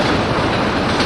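In the Rule the Rail video game, a train rolls along the tracks with a brief, loud, steady rumbling clatter of wheels and cars.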